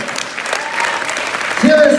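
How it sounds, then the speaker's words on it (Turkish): Audience applauding at a Tiens Academy graduation ceremony, a thick, continuous burst of clapping from many hands, with a voice briefly audible over it near the end. "Gelin onlara bir yürekten alkışlayalım."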